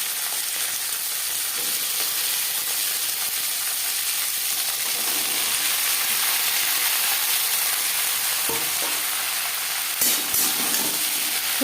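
Green beans sizzle in a pan of hot oil with cumin seeds and slit green chilies, a steady close frying hiss that runs the whole time, with a couple of brief stirring clatters near the end.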